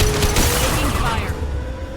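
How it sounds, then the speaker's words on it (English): Rapid gunfire from a firefight in Mass Effect 2, a dense, continuous rattle of shots that holds steady throughout, with voices heard over the combat. "Taking fire."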